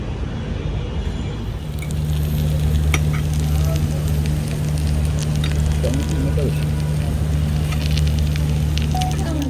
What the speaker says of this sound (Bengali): গরম গরম কড়াইয়ের থেকে ছোট চিংড়ি মাছ ভাজি